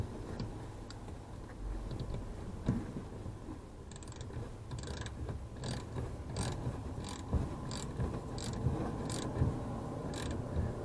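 A ratchet wrench snugs down a fuel filter housing in the engine bay of a Ranger Tug 21 EC boat, giving a run of quick, close mechanical clicks in short bursts over a steady low background hum.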